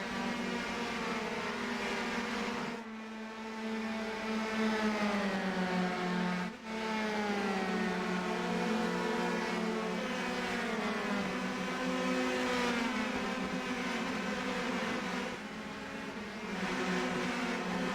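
Race cars in the Lucas Oil 125 roar around the track as a continuous, steady engine drone with harmonic whine, rising and falling slightly as cars pass, no talk.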